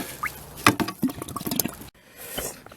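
An old glass bottle dug from the ground near Kinston is lowered into water, giving close splashing, gurgling and dripping sounds that stop abruptly and then continue more faintly, with no talking.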